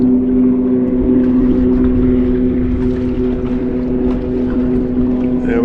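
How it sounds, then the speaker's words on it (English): Motorboat engines drone steadily across the water, a continuous loud hum with a strong tonal rumble, as jet skis zoom past near a Bass Tracker Classic XL boat out on a lake. "we got some folks zooming across the water on their jet skis"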